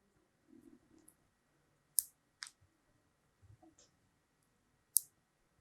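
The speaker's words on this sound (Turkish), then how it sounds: "Butona basıyorum." Small push button on a Pinoo electronics board pressed and released by hand, giving a few faint, sharp clicks spaced a second or so apart in a quiet room.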